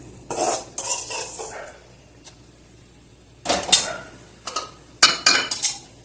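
A metal spoon scrapes and clinks against a pot as tempering is stirred into idli batter for Kancheepuram idli, in several short irregular bursts separated by quiet pauses.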